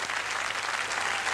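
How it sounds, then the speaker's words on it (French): Studio audience on a French evening television variety show applauds steadily and loudly, dense clapping filling the whole moment without pause. "je me demande d'applaudir Roy Tines, David Vincent."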